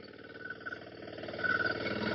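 A tractor engine runs steadily while plowing a field, a close, continuous mid-pitched drone that swells slightly louder toward the end.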